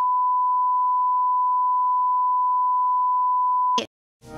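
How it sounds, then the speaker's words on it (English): Censor bleep for Censored Bubble from The Amazing Digital Circus: a single steady, loud pure-tone beep held for almost four seconds, then a short burst of sound and a brief clipped noise after a gap. "It's Censored Bubble"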